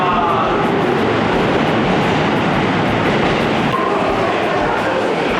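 A double-decker train in Japan rumbles past loudly and continuously, a steady roar of wheels and motion with a slight shift partway through.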